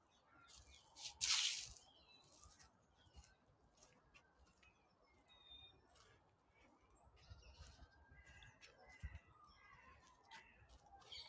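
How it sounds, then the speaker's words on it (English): Scattered bird calls and chirps sound faintly through a quiet spring woodland at Perivale Wood, with one louder burst near the start. "So the volume of bird song is getting louder."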